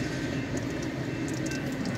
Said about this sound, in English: For some reason, it seems like the trains are not very long through here.